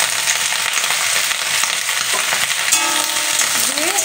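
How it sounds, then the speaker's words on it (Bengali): Potatoes and onions frying in a pan, a steady close sizzle with occasional stirring scrapes, and no talking over it. "দিয়ে একটু সময় ভাজা ভাজা করে নেবো 1 মিনিটের মতন।"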